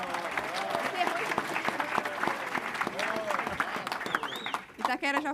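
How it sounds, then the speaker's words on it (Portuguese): Audience applause at a graduation ceremony for new members of a group in Osasco, a steady dense clapping that fills the room, with voices and cheers mixed in and a brief lull near the end. "palmas para Osasco"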